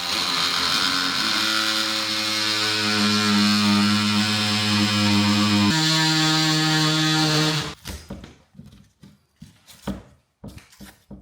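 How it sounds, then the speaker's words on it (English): An oscillating multi-tool cutting a hole for a back box in a board, with a steady loud buzzing drone that shifts pitch partway through, then stops and gives way to scattered knocks and handling sounds. "then cut it out using the multi-tool"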